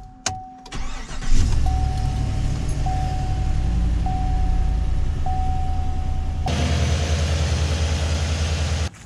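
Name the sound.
pickup truck engine starting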